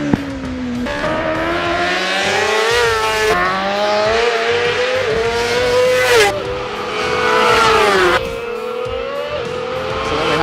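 Honda racing superbikes, CBR1000RR-R SP machines, run at a British Superbike track, their engines revving hard with rising and falling harmonic whines and repeated gear-change breaks, loud and nearby for about ten seconds without speech.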